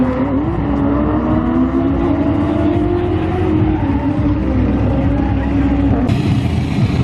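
A drift car runs around the track at a Halloween drift night at Adams, its engine droning steadily with rising and falling pitch, loud and continuous from start to end.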